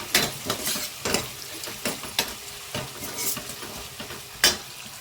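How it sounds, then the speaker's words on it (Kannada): Finely chopped onions stir-fried with chana dal in a pan, with irregular spoon scrapes and soft sizzling. About eight distinct stirring strokes sound close by, with no one talking. "ಈಗ ನಾನು ಚಿಕ್ಕದಾಗಿ ಹೆಚ್ಕೊಂಡ್ರೆ ಈರುಳ್ಳಿ ಸೇರಿಸ್ಕೊಳ್ತೀನಿ ಚೆನ್ನಾಗಿ ಇವಾಗ ಮಿಕ್ಸ್ ಮಾಡ್ಕೊಳ್ಳೋಣ"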